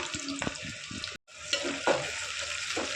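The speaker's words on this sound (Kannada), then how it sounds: "ಸಾಸಿವೆ ಜೀರಿಗೆ ಹಾಕೊಳ್ಳೋಣ" Mustard seeds and cumin sizzle in hot oil for a greens sambar tempering, a close, bright frying hiss with small crackles and pops, broken by a momentary gap.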